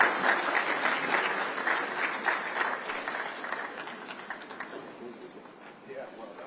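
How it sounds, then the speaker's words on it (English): An audience at an awards ceremony in Abuja claps for a pharmaceutical company chairman, dense applause that gradually thins and fades, with voices mixed in. "Can we please give him a round of applause?"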